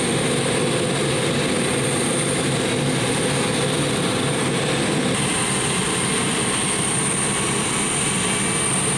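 A restored museum aircraft engine runs loudly and steadily, a dense continuous roar that fills the whole clip without any break or speech.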